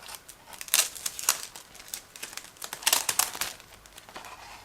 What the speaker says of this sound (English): So it's also a resealable plastic bag. Just give me a second to open it